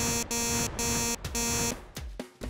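A kitchen cooking timer, set while making a grilled sandwich, sounds harsh buzzing electronic beeps close by: four long, evenly spaced pulses followed by shorter, choppier bursts.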